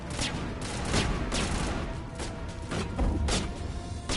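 Enemy gunfire in Mass Effect on PS4, a dense, loud, continuous barrage of overlapping shots and impacts with repeated sharp bursts throughout.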